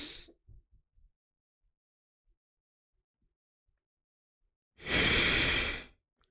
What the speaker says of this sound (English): Take a breath first.